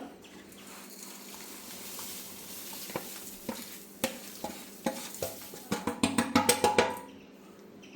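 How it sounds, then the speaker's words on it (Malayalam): A spoon stirs payasam in a pot, with soft scraping and bubbling at first, then a run of quick, louder knocks and sloshes against the pot near the end. "നല്ലപോലെ ഇളക്കാം"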